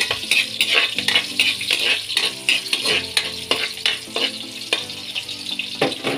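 Onions and garlic sautéing in a pan and being stirred, with repeated scraping utensil strokes over a crackling sizzle, close and fairly loud, with no talking.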